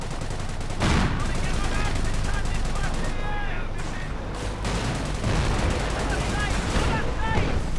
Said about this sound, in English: Machine guns blazing.